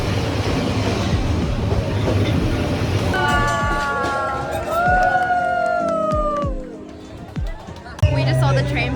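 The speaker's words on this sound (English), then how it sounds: "We just saw the train pass through and it was so surreal" A train rolls slowly past at very close range along Hanoi's narrow train street, with rumbling wheels, rhythmic clatter and high squealing from the rails, while onlookers talk and murmur nearby.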